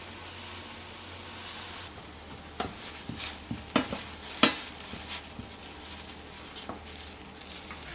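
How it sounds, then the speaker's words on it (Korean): Thin round eggplant slices stir-cooked in a dry pan over medium-high heat, a soft steady sizzle broken by scattered spatula taps and scrapes, close but fairly quiet. "팬에 썰어 놓은 가지를 넣으시고요. 중강불에서 빠르게 가지의 수분을 날려주세요."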